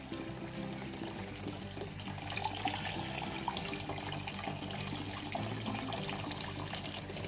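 Warm water running from a tap to fill a container for watering seedlings, a steady soft splashing flow heard continuously, fairly quiet and close, with no voices.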